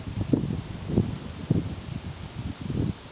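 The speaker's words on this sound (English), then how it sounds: "the wind is blowing harder than expected" Wind blows hard outdoors on an October day. Gusty buffeting and rumbling noise against the microphone comes in several surges about half a second apart, with a rustling backdrop and no voices.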